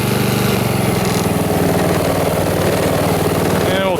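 A Honda HRX2174HZA walk-behind lawn mower engine runs steadily and loudly close by, a constant low drone with no breaks, plus a brief whine near the end.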